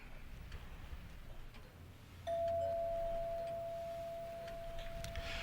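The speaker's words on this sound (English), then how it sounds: "I meant to disconnect the bell for the night." A doorbell rings at night in an old house, a thin sustained electric ring starting midway and holding steadily over a faint hiss of room noise.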